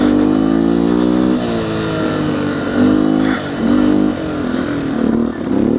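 A 2019 Beta 125 RR S two-stroke dirt bike revs close by, its engine rising and falling in several throttle swells with brief dips between them, loud and unaccompanied by speech.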